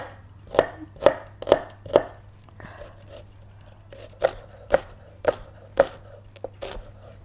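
A knife chops food on a board in a run of sharp, close knocks, about ten in all, coming at an uneven pace with short pauses between bursts.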